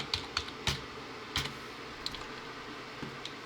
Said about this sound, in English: type in network settings